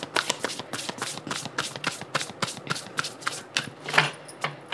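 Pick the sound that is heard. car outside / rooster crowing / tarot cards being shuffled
tarot cards being shuffled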